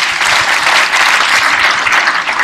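Dense, loud applause from the audience at the opening ceremony of Tanzania International Model UN 2020, filling the whole moment with continuous close clapping and no voices.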